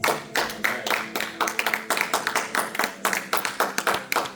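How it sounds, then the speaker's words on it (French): Congregation clapping during a church worship service, a steady run of close, sharp handclaps in a quick rhythm lasting the whole stretch. "On acclame le nom de Jésus."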